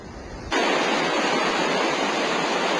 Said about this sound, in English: You can hear the river roar,